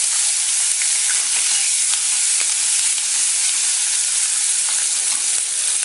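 Onion and garlic sizzle and fry in hot oil after tempering spices and broken dried red chillies, a steady close hiss with faint crackles throughout and no talking.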